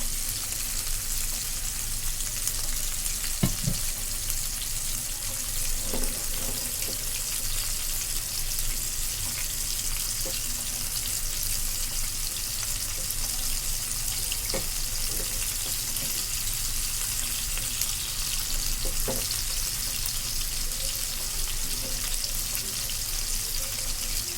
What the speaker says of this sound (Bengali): মাছ ভাজাগুলো একটু পরে উল্টানো হবে